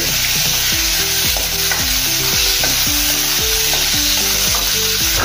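Steady sizzling from a hot pan as finely chopped onion and spices are stirred, with spoon scrapes and clinks repeating throughout over a constant frying hiss.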